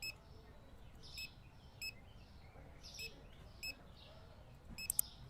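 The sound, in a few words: payment terminal keypad beeps in Supermarket Simulator video game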